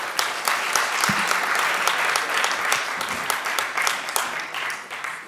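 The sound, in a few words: applause for panelist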